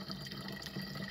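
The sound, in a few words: running water at a mine spring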